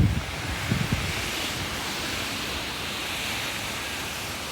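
Hurricane Ian's wind and water on a flooded street, a steady broadband roar like surf or rushing wind, with a few low buffeting thumps at the start and then an even, unbroken wash.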